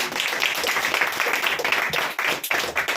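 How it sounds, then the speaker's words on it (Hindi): A church congregation at a testimony service clapping loudly in unison, a dense burst of hand claps filling the room for a few seconds. "चर्च जोर से ताली बजाएंगे"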